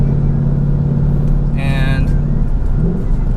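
A 2019 Ford Mustang GT with the 5.0-liter Coyote V8 and Performance Pack 2 on a twisty mountain road gives a steady, loud low engine drone throughout, with a brief whine near the middle and a voice speaking over it.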